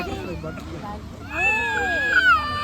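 A black-and-white kitten meows in a rising, high-pitched series of cries near the end, following a stretch of talking and household voices.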